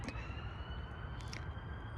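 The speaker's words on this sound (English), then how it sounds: "that siren there" A siren wails faintly in the distance with a steady rising tone, half buried under outdoor background noise.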